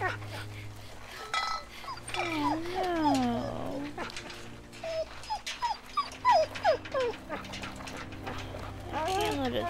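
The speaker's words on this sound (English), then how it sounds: "Doggy." Dog whimpering in The Walking Dead video game, season 2 episode 1, with thin high whines rising and falling amid game music and a speaking voice, loudest around the middle and again near the end.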